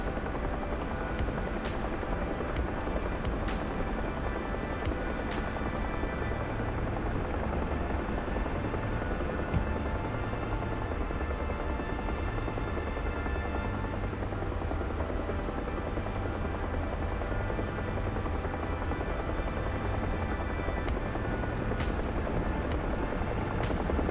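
A Huey helicopter in the DCS flight simulator, its rotor producing a loud, continuous thudding drone with rapid blade chop that stays constant throughout, heard alone with no speech.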